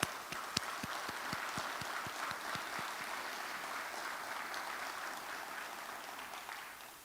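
Scattered, fairly faint applause from a room of people at a Southwest Management District board meeting, with a few distinct claps at first blending into a steady wash of clapping.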